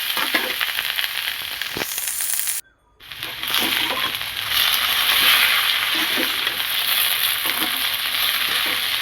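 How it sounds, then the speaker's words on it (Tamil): Okra and onion sauté in a pan with a loud, continuous close sizzle, broken by a brief dropout and occasional stirring scrapes. "இப்போ வெண்டைக்காய் நல்லா வதங்கிடணும்"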